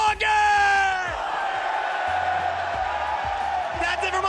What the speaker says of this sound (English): Everybody cheer with me.